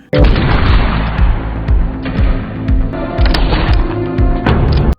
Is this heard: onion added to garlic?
no